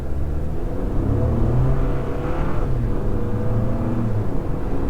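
A Toyota RAV4 Hybrid engine hums and rumbles steadily at close range, with a low, even drone that swells slightly in the middle before settling back.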